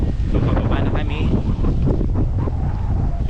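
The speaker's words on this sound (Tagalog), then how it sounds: "Super lakas ng hangin, grabe." Very strong wind roars continuously at a hilltop overlook, buffeting the microphone with loud, rumbling gusts that barely let up.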